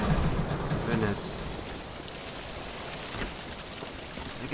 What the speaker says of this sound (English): It's raining, man. Raining water, man.